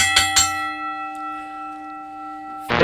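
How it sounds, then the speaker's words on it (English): A bell rung to close out a podcast: two quick bright strikes followed by a long sustained ringing tone that slowly fades, then a short burst of noise at the end. "Ring the damn bell."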